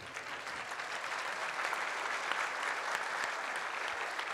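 Loud, sustained applause from the guests at a collective civil wedding ceremony, a dense and steady wash of clapping that keeps going throughout with no voices standing out.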